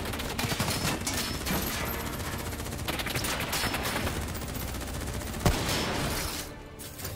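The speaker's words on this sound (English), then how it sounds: "What the hell? Who's shooting?" Heavy gunfire rattles continuously in a Call of Duty Black Ops 3 cutscene, dense overlapping automatic bursts close up that ease off near the end.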